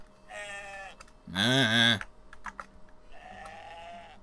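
Sheep in the video game Moirai let out bleats, a short one near the start, a loud, wavering, close bleat in the middle and a fainter bleat near the end, with keyboard clicks and a brief spoken word between.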